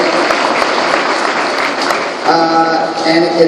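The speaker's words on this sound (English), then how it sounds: "Applaud if you're very satisfied with your life here in Canada." Audience applause fills the room, a steady wash of clapping, with a tonal sound emerging near the end.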